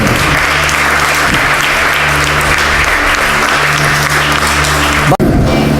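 Steady, loud applause fills a church service as the congregation claps for God, with a constant low hum beneath and a sharp knock near the end.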